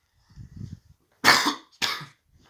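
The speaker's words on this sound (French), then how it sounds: "J'ai toussé." A person coughs during a Clash Royale gaming session: a few faint throat sounds, then two sharp, loud coughs close to the microphone, with near silence around them.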